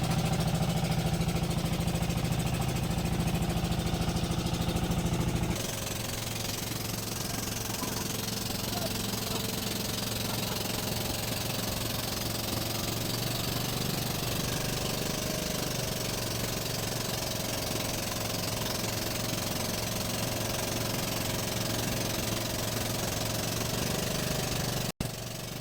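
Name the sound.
motorboat engine running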